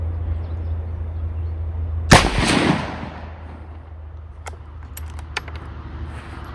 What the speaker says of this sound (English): 10 shots, 223 from the bench down there